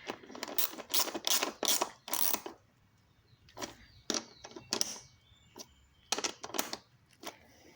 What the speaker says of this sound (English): 10 millimeter socket to tighten these up